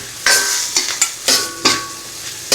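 Onions and carrots fry in a pan, sizzling steadily while a utensil stirs them in about five quick scraping strokes, close and clear.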